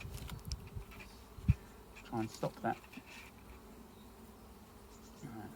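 Honey bees buzzing around an open beehive during an inspection, a faint steady hum with a few louder close buzzes and a sharp knock, as a person speaks briefly.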